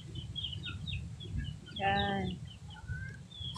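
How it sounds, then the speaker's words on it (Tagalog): Chickens cluck in short bursts while strong typhoon winds roar around them, with one louder, harmonic squawk near the middle; a voice speaks briefly. "Yung mga manok ko naman."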